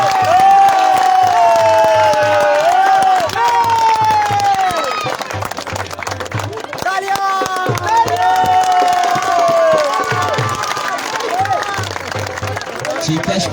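A crowd at a cricket league final cheering and clapping for the runner-up team during a prize presentation: scattered applause and cheers under loud music with a sustained melodic line, with a rhythmic low beat repeating throughout.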